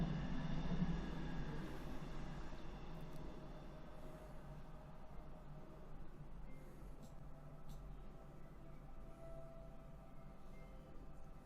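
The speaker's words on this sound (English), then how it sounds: "Hello, train." A train passes at a distance, a faint, low, continuous rumble with rail noise that slowly fades, heard alone.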